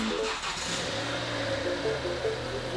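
A Mini Cooper engine, just started off a jump starter on a totalled car with frame damage, runs steadily in a low idle hum with a faint higher whine, continuous and fairly close.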